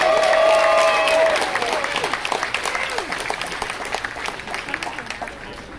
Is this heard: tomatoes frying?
no